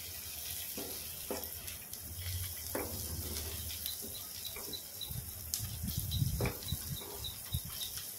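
Onions fry with salt in a pan, giving off a continuous close sizzle and hiss, with occasional stirring scrapes and soft clinks, and no one speaking.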